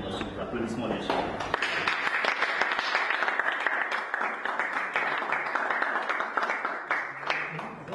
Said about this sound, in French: Qui va nous rejoindre sur l'applaudissement des gens.